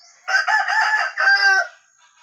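A red junglefowl rooster lets out a single loud, close crow lasting about a second and a half, with a short break partway through and quiet surroundings.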